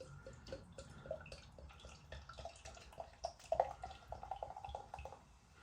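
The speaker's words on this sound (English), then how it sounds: "why not pour a Paulaner beer in a Paulaner glass?" Paulaner lager from Germany poured from the bottle into a branded Paulaner glass, a soft close trickle and gurgle with faint bubbling drips, steady for several seconds without talk.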